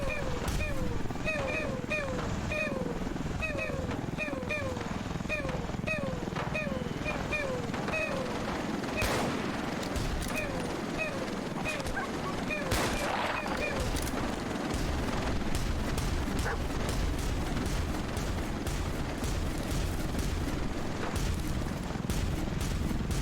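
Rapid bursts of automatic gunfire repeat steadily in the Warhammer 40K: Darktide co-op shooter, with heavier booms and dense combat noise layered over the bursts as voices talk throughout.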